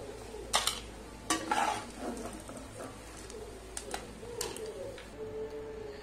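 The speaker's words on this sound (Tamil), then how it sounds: "ஒரு 2-ல இருந்து 3 நிமிஷம் வரைக்கும் நல்லா கிளறி விடுவோம்" Lentils roast in a pan for temple-style tamarind rice while a spoon stirs them, giving intermittent scraping clatters over a soft, continuous sizzle.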